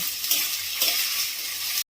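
Chicken pieces with tomato and green chili being sautéed in a pan, giving a steady bright sizzle with a few soft stirring scrapes, ending abruptly.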